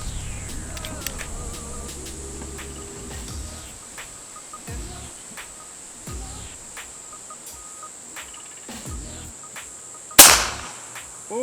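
An airgun pellet strikes an iPhone 4 with a single sharp crack near the end, heard over outdoor ambience with crickets or insects chirping and a few faint distant pops beforehand.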